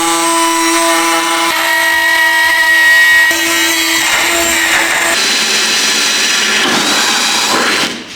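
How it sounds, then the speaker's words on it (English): A Dremel rotary tool cuts into a carbon fibre boot lid on a Lancer Evo project car, giving a loud, steady high-pitched whine whose pitch drifts and roughens as the bit bites, running continuously without talk. "with the Sharpie and a Dremel, anything is possible"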